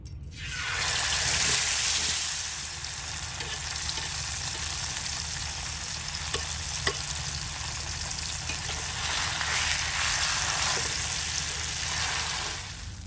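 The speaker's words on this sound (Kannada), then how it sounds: "ಎರಡೂ ಸೈಡಿಂದ ಕೂಡ ಇದನ್ನು ಫ್ರೈ ಮಾಡ್ಕೊಳ್ಳಿ" Giant tongue fish frying in coconut oil gives a loud, steady broadband sizzle that swells and eases slightly, with a few faint pops from the pan.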